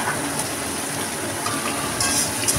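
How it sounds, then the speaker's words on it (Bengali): Sliced onions, potatoes and tomatoes sizzle in a pan for fish curry, a dense continuous hiss and crackle close by, steady throughout with no voices. "আমাদের পেঁয়াজের সঙ্গে আলু টমেটো ভালো করে ভেজে নিতে হবে।"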